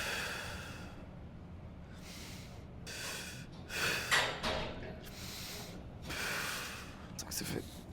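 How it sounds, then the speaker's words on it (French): Loud nasal breaths and sighs from a person holding still during a static bodyweight exercise, coming in several separate bursts close to the mic over quiet room noise. "Et là, je bouge plus. Je respire."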